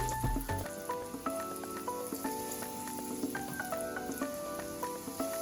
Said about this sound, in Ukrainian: Як тільки котлети поміщаю на пательню, зменшую вогонь до середнього. І все, обсмажую з обох боків.